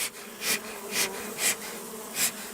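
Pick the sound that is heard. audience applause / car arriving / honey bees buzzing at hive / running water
honey bees buzzing at hive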